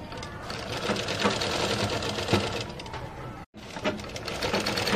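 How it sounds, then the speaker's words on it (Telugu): A sewing machine stitching the side seams of a top, running in a fast, steady mechanical rattle at close range, pausing for a split second midway before continuing. "ఈ విధంగా మనం రెండు సైడ్ను స్టిచ్చింగ్ అనేది చేసేసుకోవాలండి."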